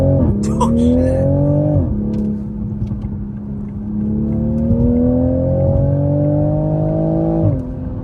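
A Toyota Supra driven hard with traction control off; a loud, close engine revs and climbs through gears, with the pitch dropping at shifts, a brief squeal early on, and faint voices underneath.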